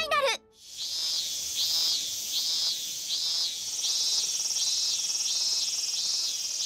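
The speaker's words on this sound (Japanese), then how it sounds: "ミーン以外のことが言えんのか。 まあセミですから。" A cicada in an anime movie trailer chirps in a steady series of about eight rhythmic, buzzing pulses, loud and close, after a brief sound at the very start.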